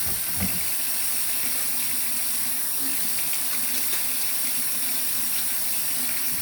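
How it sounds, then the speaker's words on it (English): Hands washed under a running kitchen tap, a loud continuous gushing hiss of water with faint splashing changes as the hands move, close by and without talk. "let me wash my hands"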